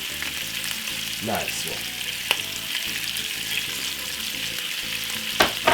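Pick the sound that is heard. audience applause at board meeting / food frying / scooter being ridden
food frying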